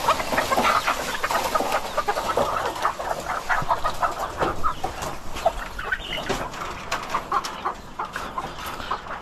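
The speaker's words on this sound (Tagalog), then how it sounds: "Takot yung mga manok ko ah." A flock of chickens clucks and squawks continuously nearby, a busy overlapping chorus of short calls with no talking.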